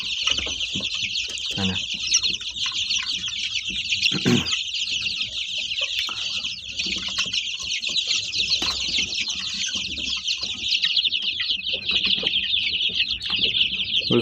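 Young chicks peep and cluck in a dense, continuous chorus as they eat semolina porridge and ground corn, close by and steady throughout, with a brief spoken word at one point.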